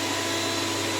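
A blender whirs steadily as it purées squash with milk for a squash pie, a continuous, even motor drone held close, with no talk.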